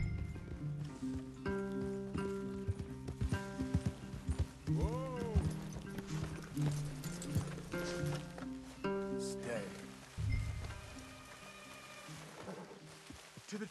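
Horses in the Red Dead Redemption 2 video game, with hoof clip-clop and a brief whinny-like call mixed under game music and talk.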